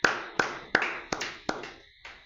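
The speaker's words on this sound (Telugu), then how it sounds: "గట్టిగా చప్పట్లు కొట్టి దేవుని నామని మహిమపడదాం" A church congregation claps loudly in unison: six sharp, echoing claps at a steady, slightly slowing beat, each ringing briefly in the hall.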